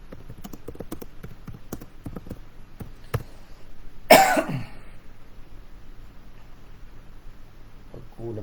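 A single harsh cough bursts out close to the microphone during a live stream, following some soft clicks and tapping, with quiet room noise afterward.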